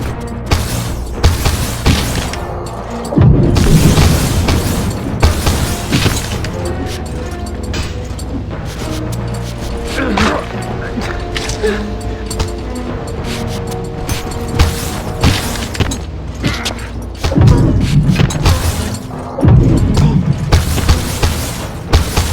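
Explosions in a video game fight boom repeatedly through dense, loud layered combat effects. Heavy blasts hit at intervals over constant clatter and rumble.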